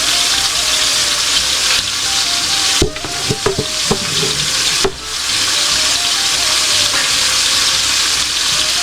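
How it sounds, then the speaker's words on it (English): Kielbasa sausage frying in a pan for a Macedonian sausage-with-peppers dish, giving a loud, continuous close sizzle, with a brief cluster of clatters and utensil knocks in the middle before the steady frying resumes. "we have our kielbasa in the pan"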